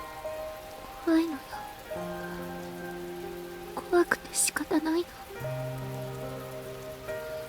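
Steady rain falls outside a window in the visual novel The Fruit of Grisaia, a soft continuous patter under a woman's tearful Japanese speech, with quiet music tones in the background.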